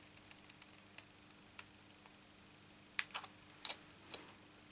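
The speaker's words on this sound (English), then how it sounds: "These paper snips are absolutely brilliant because they do actually cut to the end of the point of the scissors." Paper snips cutting card from a corner toward a center point, a series of soft, sharp clicks and snips, irregular and close, a few louder cuts bunched near the end, quiet surroundings without speech.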